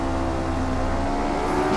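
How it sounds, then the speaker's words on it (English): Race car engine in Assetto Corsa held at high revs on the grid before the start, a steady loud droning whine with layered harmonics running continuously and alone. "Let's get those revs nice and high."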